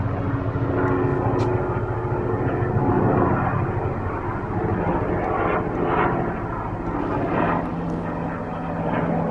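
A helicopter passes overhead, a steady loud engine and rotor drone that holds throughout with slight swells, no voices present.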